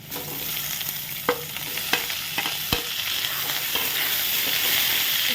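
Carambola (kordoi) slices frying in a pan with ginger, garlic and green chillies, a steady close sizzle with a few sharp stirring clinks and scrapes, no voices.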